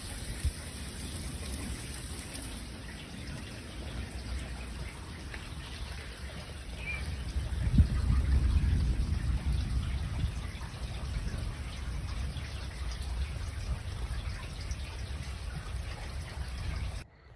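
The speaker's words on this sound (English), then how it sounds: "Thunder roaring in the distance. It's pouring rain." Steady pouring rain hisses and patters on surfaces in a French country garden in Burgundy, with a low, distant rumble of thunder swelling midway and fading back under the continuous downpour.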